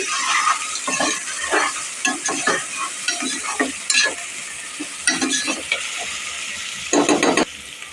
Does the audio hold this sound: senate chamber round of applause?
no